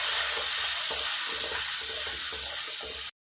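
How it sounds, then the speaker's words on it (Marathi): Ginger-garlic paste and lemon juice being stirred and sautéed in a pan for dadpe pohe, a steady hissing sizzle with soft rhythmic stirring scrapes, close and continuous. "व छान असं परतून घ्यायचं आहे."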